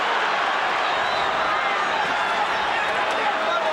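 Boxing arena crowd at the Pernell Whitaker versus Oscar De La Hoya fight, a steady dense roar of cheering and murmuring spectators, loud and unbroken across the few seconds.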